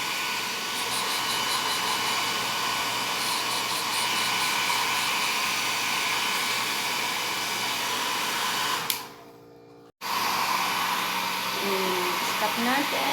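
After a shower, a pet is dried with a blower, which gives a loud, steady, close whine that cuts out abruptly near the end, with faint voices under it.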